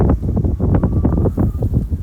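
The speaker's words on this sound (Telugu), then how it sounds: "గాలి అయితే వేరే లెవెల్లో ఓడుతుంది" Strong wind at sunrise during a small drone's first outdoor flight buffets the microphone in loud, uneven low gusts and rumbles that pulse every fraction of a second, with no speech.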